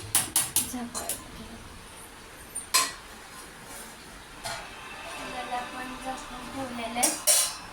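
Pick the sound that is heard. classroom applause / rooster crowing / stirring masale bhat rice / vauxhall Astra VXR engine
stirring masale bhat rice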